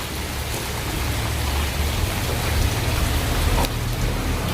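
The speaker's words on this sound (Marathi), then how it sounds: "पण आवाज खूप जोर जोरात येतोय पावसाचा" Heavy rain pours down at night, a dense, loud, unbroken hiss of drops drumming on surfaces with no pauses.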